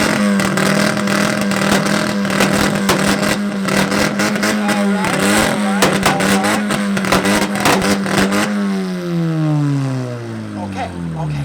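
A car revs at an exhaust competition of muscle cars, trucks and JDM models, holding a loud, steady high-idle drone before the revs drop and wind down near the end, with crowd noise and talk around it.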